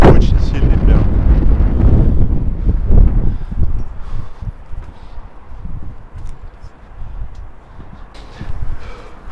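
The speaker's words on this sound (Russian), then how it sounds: "Сегодня очень сильный ветер." Very strong wind batters a rooftop in heavy, rumbling gusts that blast the microphone, loudest at the start and then surging and easing in waves, with no one speaking.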